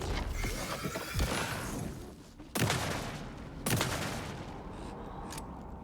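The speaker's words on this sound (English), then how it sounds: "Shots now." Gunfire from the video game Alan Wake 2 fills a dense, noisy scene: a run of shots early on, then two sharp, loud reports spaced a second apart, each trailing into a rumbling decay, with no voices.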